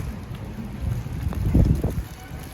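Gusty wind blowing falling snow rumbles and buffets the microphone, swelling louder briefly before easing, with no voices.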